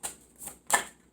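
Tarot cards shuffled and drawn in a few quick bursts, a soft riffle at the start, a fainter one midway and a sharper snap of cards near the end, close and quiet with no talking.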